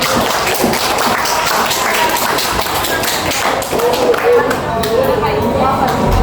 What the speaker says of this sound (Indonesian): Silakan diberi aplaus untuk temannya.